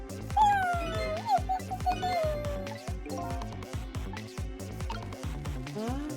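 A dog yips and whimpers in the video game Ghost Trick over a rhythmic, beat-driven game soundtrack, with faint talk in the mix.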